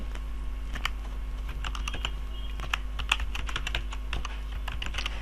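Someone types a command on a computer keyboard while working on a remote web server upload, a rapid irregular run of close, crisp key clicks over a steady low hum, with no voices.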